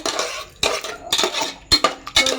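A spoon stirs quick potato curry in a metal pan, scraping and clinking against the sides in several separate bursts with short pauses between, close and fairly loud.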